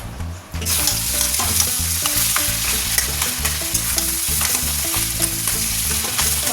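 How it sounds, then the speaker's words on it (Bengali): Fish cooking down in a spice masala with ginger, garlic, onion, tomato, chilli and cumin powder, a loud close sizzle over a rapid, rhythmic clatter of stirring against the pan, continuous and without talk. "মশলা দিয়ে মাছটাকে কষিয়ে নিয়েছি, আদা রসুন পেঁয়াজ টমেটো লঙ্কা আর একটু জিরে গুঁড়োও দিয়েছি"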